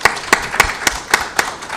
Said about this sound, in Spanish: Por favor, démosles un fuerte aplauso